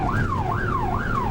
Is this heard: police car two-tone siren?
yes